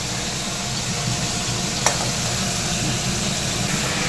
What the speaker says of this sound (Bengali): মাছটা আমাদের অল্প মোটামুটি ভাজা হয়ে গেছে